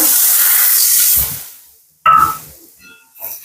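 Water poured into a hot pan while cooking sets off a loud, sizzling hiss that fades over about a second. A second, shorter burst of sputtering follows, then tails off quietly.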